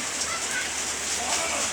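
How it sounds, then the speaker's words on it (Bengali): Steady rain falls outside a small shop, a dense, even hiss with no gaps that runs evenly throughout. "বাহিরে পর্যাপ্ত পরিমাণ বৃষ্টি"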